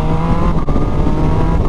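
A 2021 Yamaha MT-09 motorcycle accelerates hard, its engine giving a loud, close, sustained growl with a brief dip partway through as it shifts.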